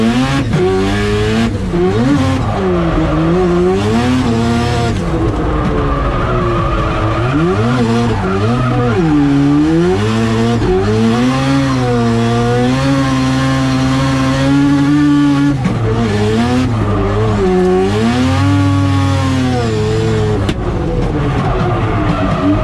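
A track car fitted with a CWA400 electric water pump laps a test circuit with loud, close engine howl rising and falling through repeated gear changes and revs, joined by tire squeal across a long continuous run.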